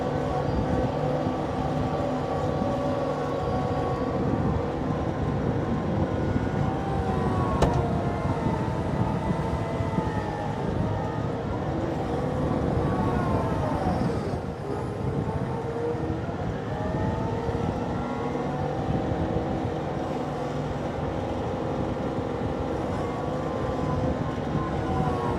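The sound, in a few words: Kioti CK2610SE tractor loader pushing into packed gravel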